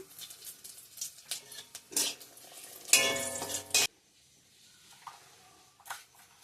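Bay leaves and dried chillies hit hot oil with a crackling sizzle that builds in short spurts, peaks in a loud burst, then fades into softer frying and light stirring.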